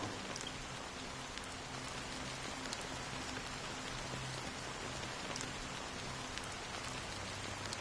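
Steady rain falls in Honkai: Star Rail, a dense even hiss of drops on surfaces holding at constant level with no voices.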